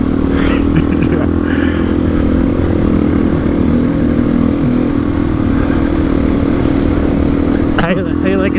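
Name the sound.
Honda XR400 carbureted motorcycle engine while riding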